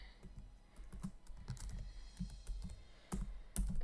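Someone types on a computer keyboard up close, making irregular bursts of soft clicks and key taps that grow slightly louder toward the end.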